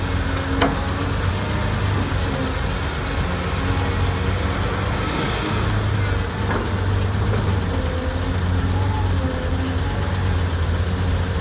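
A Kobelco SK200-6 Super excavator digging and scooping soil, with a steady low diesel rumble that rises and falls as the hydraulics work and faint clanks in between, heard nearby.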